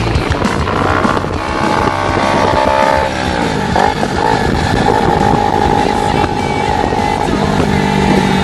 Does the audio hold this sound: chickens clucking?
no